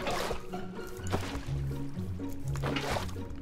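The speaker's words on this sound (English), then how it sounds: "we're going to place our water down now" Water being placed in Minecraft gives a few soft splashing, liquid squelches at uneven intervals over a low, steady background.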